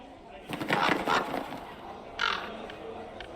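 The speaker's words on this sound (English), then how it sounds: "That's one creepy fucking bird." A crow caws in the video game Dragon Age Inquisition, two raspy calls: a longer burst near the start, then a shorter one a little later, both fairly close over a low ambient background.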